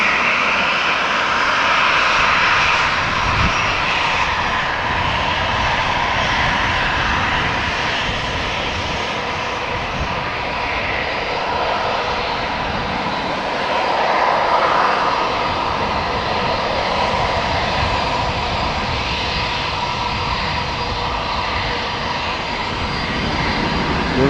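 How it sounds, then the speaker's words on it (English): A KLM Boeing 737-800 jet bound for Barcelona at Amsterdam Schiphol Airport gives off a continuous, loud engine roar with a high whine. The sound swells gently and fades in places across the stretch, with no voices. "KLM flight 1513 to Barcelona,"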